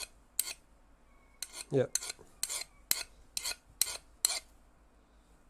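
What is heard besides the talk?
metal file scraping hardened steel rods of Prusa Mini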